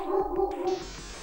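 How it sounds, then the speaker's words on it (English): Sonic Spinball video game dog barking: a short, tonal electronic yelping woof that repeats in quick pulses, loud and close, then ends in a higher buzzy tone. "Oh, I now have a barking dog."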